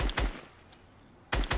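Two short bursts of rapid gunfire from a weapon in Fortnite, each a pair of close, loud shots, separated by about a second of quiet.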